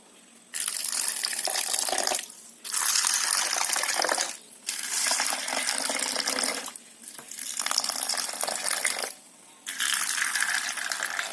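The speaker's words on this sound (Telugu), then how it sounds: "ఇవన్నీ ఇలా వాటర్ పోసేసుకోండి." Water is poured in several separate bursts over soaking peanuts, chickpeas, flattened rice, sorghum and dried coconut, each gushing splash lasting a second or two with short pauses between, close and fairly loud.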